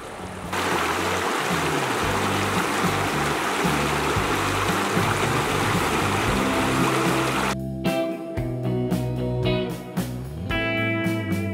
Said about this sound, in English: I took a quick stroll over to the river.